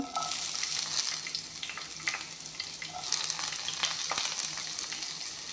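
Onions and spices, coriander and a five-spice mix, fry in a pan with a steady sizzle, broken by scraping stir strokes throughout.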